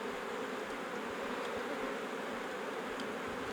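Honeybees in a hive with a laying queen and brood in the Pantanal produce a dense, continuous buzzing drone, steady and close throughout with no voices.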